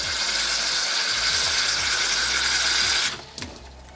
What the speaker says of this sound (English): Alright, pour some water in.